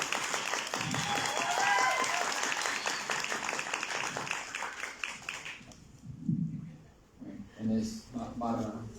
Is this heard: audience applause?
yes